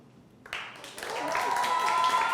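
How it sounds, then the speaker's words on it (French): Schoolchildren at an international school break into applause, the clapping swelling from a few hands to a dense, sustained round over a couple of seconds. "Applaudissez."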